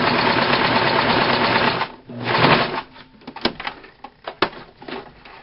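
A sewing machine set to its longest stitch gathers fabric behind the presser foot, with a steady close mechanical whir for about two seconds, followed by a few short bursts and sharp clicks.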